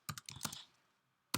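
Fingers tap a computer keyboard in a quick close burst of about five keystrokes, then a pause and one more key press, with no voices.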